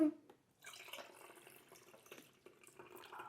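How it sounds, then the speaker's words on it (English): Juice trickles and drips steadily from a juicer at close range, a soft continuous pouring with faint splashes, quiet overall. "Listen to the juice flow"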